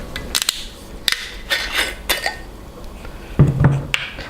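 A screw-top lid twisted off a Johnnie Walker Black Label whisky bottle, a few small scattered clicks and glassy taps, close and fairly quiet, with brief scraping in between.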